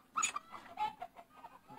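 A hen at a fighting-cock breeding farm gives a few short, close clucks in a quick, uneven run, alone and fairly quiet.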